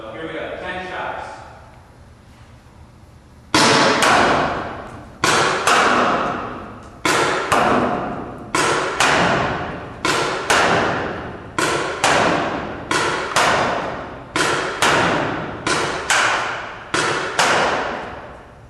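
A .68 caliber Ego 9 paintball marker firing ten shots from 100 feet at a wall, heard as a series of sharp, loud, close impact thumps in an uneven rhythm after a brief quieter start with some talk.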